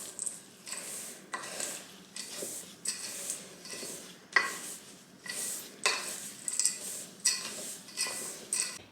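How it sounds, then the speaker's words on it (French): A homemade muesli mixture with cashew nuts is stirred in a bowl, giving soft repeated scraping and rustling strokes in a steady rhythm, close and fairly quiet, with no talking. "je vais venir mélanger tranquillement"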